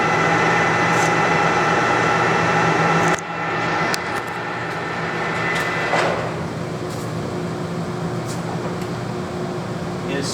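A Clausing Colchester 17 x 60 inch lathe runs at 207 RPM with a steady mechanical hum and whir, close and constant, with a few faint clicks and knocks over the top.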